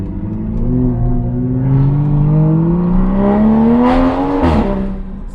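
A Toyota Supra time attack car climbs Pikes Peak in second gear, its engine note rising smoothly as the turbo spools, loud and close from inside the cabin, ending with a brief sharp burst.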